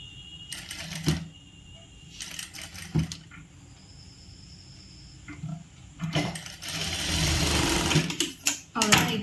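A sewing machine stitches a hand design on a churidar, running in several short, close bursts separated by pauses, with a longer run near the end.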